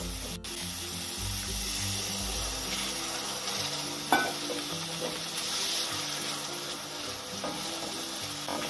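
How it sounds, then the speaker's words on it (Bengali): A small splash of water goes into a sizzling masala for Bengali katla fish curry, giving a steady crackling hiss with a few sharp clinks of a spoon against the pan as the mixture is stirred, no one speaking. "এর মধ্যে আমি একদম অল্প পরিমাণে জল দিয়ে দেবো।"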